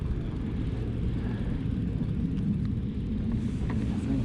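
A small aircraft takes off from a countryside airfield, heard as a distant, steady low engine rumble with no other prominent sounds.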